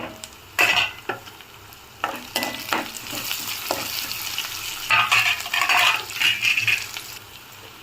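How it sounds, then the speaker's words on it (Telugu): Chopped onions and green chili frying in a pan for a beetroot fry, a steady sizzle broken by loud scraping and clinking stirs against the pan, close and with no talk. "పచ్చి వాసన పోయేంత వరకు కొంచెం వేగనిద్దాము."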